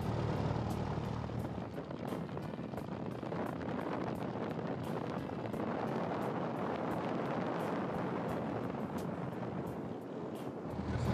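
A small training airplane's engine drones steadily before takeoff, a loud, broad, continuous roar heard from inside or near the aircraft with wind buffeting, and no talking.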